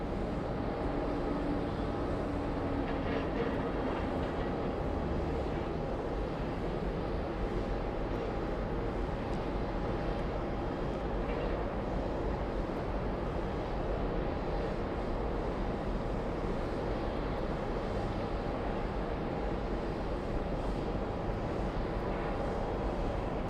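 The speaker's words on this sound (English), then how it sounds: "we'll be zooming into the A380 as it flies out of JFK." An Airbus A380 takes off from snowy JFK airport, heard as a steady, distant broadband jet roar with a faint low hum that holds level throughout, no voices.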